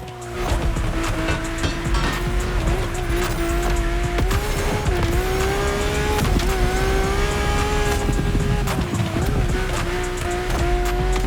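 A powerful drift car in The Crew Motorfest racing game, its engine droning steadily with shifting pitch and tires squealing through long skids, loud and continuous throughout.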